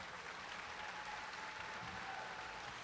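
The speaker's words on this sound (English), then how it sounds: "One more round of applause for all of our academic honors." Steady, dense audience applause fills a high school graduation ceremony hall, a continuous even wash of clapping from a large crowd with no speech over it.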